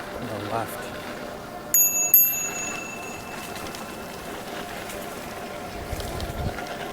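A bicycle bell on a bike ridden along the Erie Canal trail rings twice in quick succession, bright and clear over steady wind and road noise.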